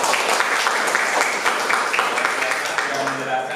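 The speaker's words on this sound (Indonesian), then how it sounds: "Tepuk tangan buat kelompok Edelweiss." Classroom applause for a student group, a dense, loud burst of many hands clapping throughout, with voices faintly mixed in underneath.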